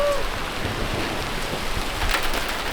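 Hail drums onto a tent during a mountain thunderstorm in the Tetons, a dense, continuous pattering roar close overhead that swells slightly toward the end.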